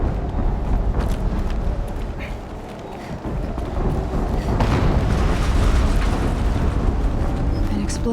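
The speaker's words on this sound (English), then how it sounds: "An explosion." Explosions from the video game Horizon Zero Dawn burst out as broad, booming rumbles over a dense, noisy game soundscape, with no one talking.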